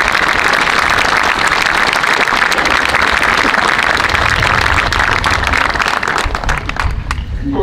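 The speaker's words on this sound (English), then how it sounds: "would you join the faculty and myself thanking your parents with a round of applause?" Commencement crowd of seniors and faculty applauding parents, a loud, sustained roar of clapping across a large gathering that thins out near the end.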